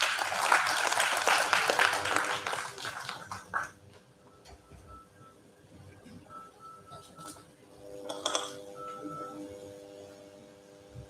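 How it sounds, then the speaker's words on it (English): An audience at a national seminar applauds to welcome a speaker. Clapping is fairly loud for the first few seconds, then fades into quiet room noise with electronic tones and a short later burst of sound. "please join me in welcoming Mr. Sanjeev Kumar Singh with a warm round of applause"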